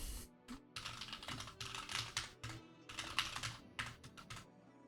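Quick bursts of clicky keystrokes on a computer keyboard as C++ code is typed, coming in irregular clusters separated by short pauses, close and fairly quiet.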